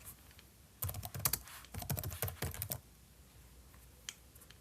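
Short bursts of keystrokes on a computer keyboard, close and fairly quiet, with a run of rapid clicks in the middle and a lone tap near the end.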